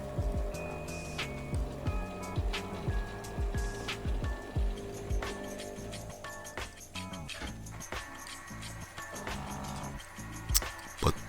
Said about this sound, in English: Let me pop it back in, and straight away the machine's starting to do something now.